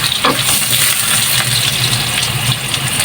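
Garlic and onion sautéing in a hot pan, with a loud, continuous close sizzle and crackle of frying and a faint low hum underneath, with no talking.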